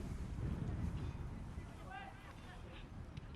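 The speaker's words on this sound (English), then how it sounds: "Steady breeze picking up here now at Maurice Conroy Field on the campus of Ogden High School" A steady, chilly south breeze blows across an outdoor high school soccer field, rumbling as low, constant wind noise on the microphone, with faint voices and a brief whistle-like tone in the background.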